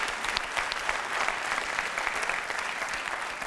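A comedy theatre audience breaks into steady, dense applause at a magic and sketch show, many hands clapping together in a continuous wash that holds at an even level throughout.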